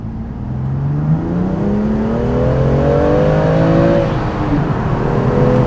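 BMW M2 Competition F87 with S55 engine and carbon intake revs steadily, a close, loud, sustained engine tone climbing in pitch then easing off, with no talking.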